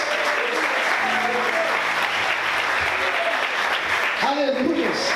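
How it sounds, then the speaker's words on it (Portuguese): A church congregation claps and cheers in sustained, dense applause that fills the room, with a preacher's voice and crowd voices rising over it near the end. "Você pode aplaudir Jesus?"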